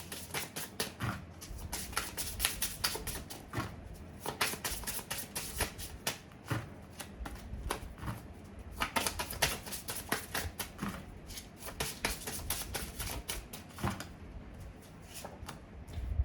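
Oracle cards are shuffled by hand in a long, continuous flurry of soft papery riffles and taps, quiet and close, with dense rapid bursts throughout and no talking.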